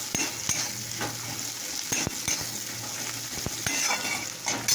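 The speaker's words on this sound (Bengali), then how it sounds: "এখন পেঁয়াজ ভাজলাম" Onions frying in a pan with steady sizzling and intermittent scraping and clinking as they are stirred, close and continuous, no voices.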